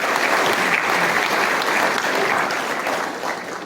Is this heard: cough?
no